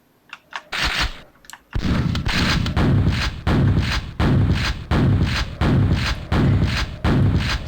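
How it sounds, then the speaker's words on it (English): A double-barreled shotgun fires in a video game, each loud, booming blast following the last at a steady rhythm of roughly every two-thirds of a second after a few scattered opening shots. "you just run around, you shoot stuff with the shotgun"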